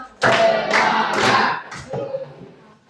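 A high school class in an Islamic studies lesson claps in rhythm, several loud group bursts in quick succession, tapering into softer claps at the end.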